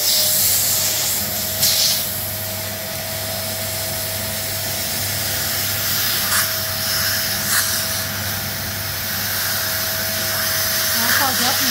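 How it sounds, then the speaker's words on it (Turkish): A household vacuum cleaner draws air out of a vacuum storage bag, a steady loud motor drone with a constant whine and hiss running throughout, with a few brief bumps and faint handling noises. "Buradan elektrik süpürgesini çektireceğim."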